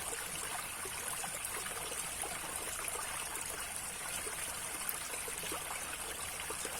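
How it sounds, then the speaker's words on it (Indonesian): A shallow stream of water flows over slippery rocks beside a path, heading toward a river or the sea. It makes a steady, close trickling and gurgling wash that holds the same level throughout, with no voices. "Dan di sini saya juga kurang tahu kemana aliran air ini akan berakhir"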